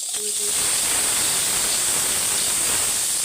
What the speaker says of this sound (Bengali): ঢাকা দিয়ে আমি আস্তে আস্তে ভেজে নেবো পটলটাকে